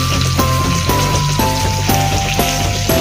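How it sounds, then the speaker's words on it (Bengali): Onion, capsicum and tomato sizzle in mustard oil left from frying katla fish in a kadai, a steady dense crackle with faint scraping stirs, close and continuous with no talk. "সেই মাছ ভাজা তেলেই আর দিয়েছি পেঁয়াজ, ক্যাপসিকাম আর টমেটো"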